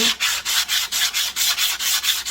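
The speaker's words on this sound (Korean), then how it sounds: "자, 여기 코너 모서리도 이렇게 샌딩을 해주고요" Sandpaper rubbed back and forth along the corners of a solid-wood book stand kit, a steady rhythmic scratching of about ten even strokes, close and clear with no talking.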